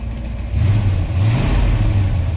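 A 1974 Chevy C30 dump truck's engine pulling up a road, a steady low rumble with slight revving swells, heard from inside the cab.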